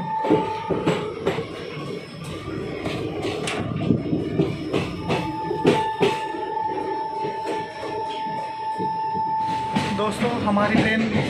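Ambala Delhi Intercity Express train running on rails: a loud, busy rumble with irregular clanks and rattles of the carriage, a steady tonal whine, and voices talking over the noise throughout.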